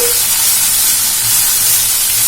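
Chopped carrot, beans and cabbage sizzle in hot oil in a pan, a steady close, loud hissing frying sound with no voices over it.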